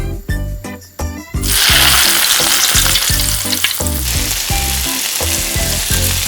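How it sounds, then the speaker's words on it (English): Fish dropped into a pan of plenty of hot cooking oil bursts into a loud, continuous sizzle after a few brief clinks. The frying holds close and steady to the end. "Heat a pan with a large amount of cooking oil. Drop the fish into the pan."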